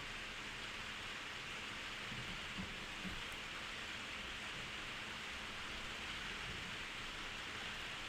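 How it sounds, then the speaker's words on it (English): Steady rain hisses continuously at a low level, a dense even wash of patter with no voices. "Sorry about the rain."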